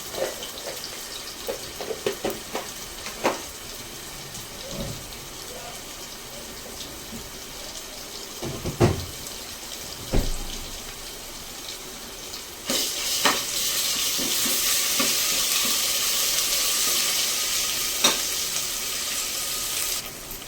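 Ginger paste frying in a pan, a soft sizzle with scattered clinks and scrapes of stirring in the first half, then a louder, steadier hiss of frying that continues to the end.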